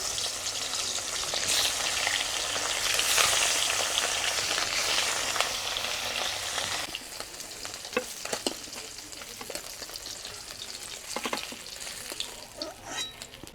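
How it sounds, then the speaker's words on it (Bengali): Two pieces of katla fish fry in hot mustard oil in a kadai, hissing loudly and steadily at first, then settling into quieter crackles and pops with occasional clinks of a spatula against the pan. "এবার মাছটা দিয়ে 2 পিস লাল করে ভেজে নেব"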